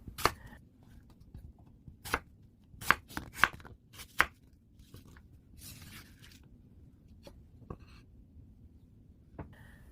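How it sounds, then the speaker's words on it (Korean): A knife thumps sharply against a cutting board in a handful of quick, irregular chops through carrots and apples, fairly close, with quiet background noise between strikes. "당근은 3mm 정도 두께로 썰어주고요."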